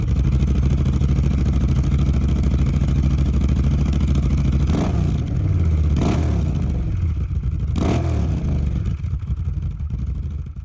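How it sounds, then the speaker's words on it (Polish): A Honda Africa Twin CRF1000L twin-cylinder motorcycle engine on an accessory exhaust runs loud and steady, with a deep continuous rumble that is briefly interrupted by a few sharp throttle blips or passing revs. "Na tym akcesoryjnym wydechu silnik pracuje wyraziście, nie za cicho i nie za głośno"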